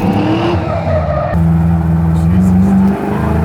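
A Yenko Camaro V8 engine roars steadily at close range, its pitch rising and holding in sustained revs, with a brief shift partway through.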